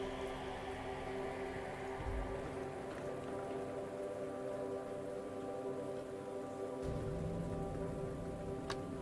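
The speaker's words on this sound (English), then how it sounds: "It's raining." Steady rain in a post-apocalyptic survival city-builder video game hisses evenly throughout, a soft continuous patter with a low hum underneath and no voices.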